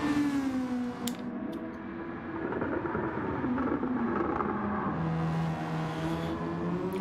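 Race cars in the Gran Turismo video game during a GR2 Nissan league race at Daytona, engine tones rising and falling steadily through the whole stretch, with continuous shifting revs and no speech.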